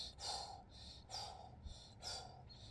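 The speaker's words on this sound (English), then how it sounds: "Here's my hands. Breathe." A man takes deep, forceful breaths through the nose before lifting a 100 lb disc: three close, rhythmic inhale-and-exhale cycles, hissing and slightly snorting, with no talking.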